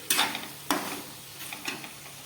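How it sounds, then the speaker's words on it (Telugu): Mutton fry sizzling in a pan while being stirred, with a few scraping strokes over a soft continuous hiss, close and moderately quiet, with no talking. "ఒక్క 5 మినిట్స్ బాగా ఫ్రై చేసుకోవాలి"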